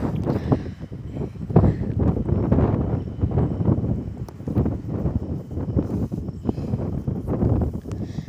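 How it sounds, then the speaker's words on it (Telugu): Strong wind buffets a microphone outdoors at night in a village, a steady loud rumbling roar with gusty surges and no clear talk. "గాలి చాలా విపరీతంగా ఉంది ఫ్రెండ్స్."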